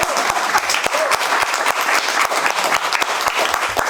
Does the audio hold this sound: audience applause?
yes